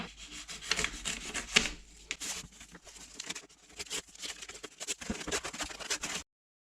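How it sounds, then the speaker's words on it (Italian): Packing tape on a box being cut open during an unboxing, heard as close, irregular scratchy rasping and rubbing strokes that continue for several seconds before stopping, with no speech. "Procediamo col taglio del nastro."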